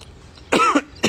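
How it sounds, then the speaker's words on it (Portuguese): Someone coughs twice, close to the microphone, short harsh bursts with a brief pause between them and quiet around them. "tô com tosse"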